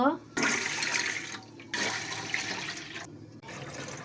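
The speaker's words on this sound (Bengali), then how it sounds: "মশলার বাটিগুলো একটু ধুয়ে দিলাম" Running water gushes loudly in several bursts with short pauses between, as bowls are rinsed under a tap.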